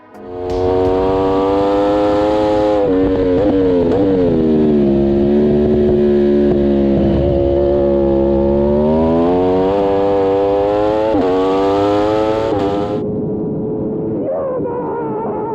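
An Aprilia RSV4 1100 sport bike screams around a race track, its engine loud and sustained at high revs and rising and falling through gear changes for most of the lap before cutting off near the end.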